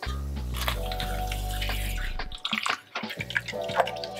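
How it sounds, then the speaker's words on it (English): Water runs from a tap into a bowl for proofing bread yeast in an off-grid kitchen, a steady full-bodied splash and gurgle that cuts off partway, followed by a few scattered drips and small clinks. "Let's add our water."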